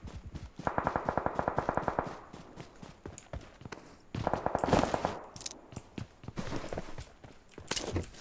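Automatic gunfire rattles in PUBG Mobile in rapid bursts, with sharp single shots and clattering impacts between them, all at moderate volume and with no talk.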